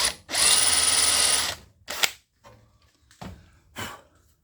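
A drill whines loudly for about a second while boring into metal near a brass pin on an Airco welder, then gives a few shorter bursts with gaps between, close by and with no talking.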